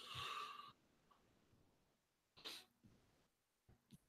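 A single sneeze, a sharp nasal burst at the start, followed by quieter breaths and small snorts.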